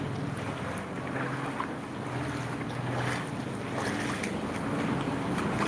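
Heavy rain pours steadily over rising knee-deep floodwater in Kolkata, a dense, continuous wash of water and wind noise that stays loud throughout.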